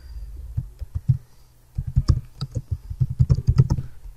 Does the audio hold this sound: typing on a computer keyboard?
yes